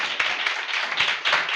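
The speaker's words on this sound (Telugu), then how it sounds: "చప్పట్లు కొట్టండి గట్టిగా" A church congregation at a live Sunday service claps loudly together, a dense, steady wash of applause with a few sharper peaks, heard briefly and close.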